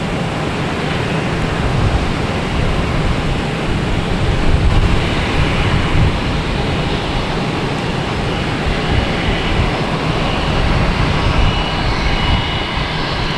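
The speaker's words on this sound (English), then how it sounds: "we have United Airlines A319 coming in from Newark on the left" United Airlines Airbus A319 jet coming in to land at Boston Logan, a steady broad engine roar heard continuously and fairly loud, with no voices over it.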